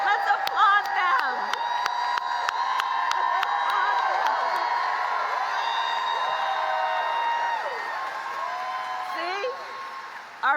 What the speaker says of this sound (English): Can we applaud all our first-time voters and young leaders who are here? Let's applaud them.